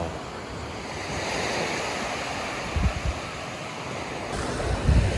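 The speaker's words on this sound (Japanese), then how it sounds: "いや、海です。" Ocean waves wash steadily onto the shore at Aoshima in Miyazaki, a broad continuous roar with wind buffeting the microphone and a couple of low gusts, with no voices.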